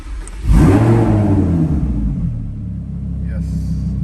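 Straight-piped Lamborghini Huracan V10 in Corsa mode snaps into a loud, close rev that swells and then settles into a steady deep idle, with someone talking over it.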